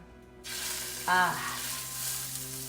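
Steady sizzling from a hot pan as meat for braciole browns, with a brief louder hiss and clink partway through as food is added and stirred.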